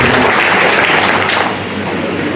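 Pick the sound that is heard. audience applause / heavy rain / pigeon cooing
audience applause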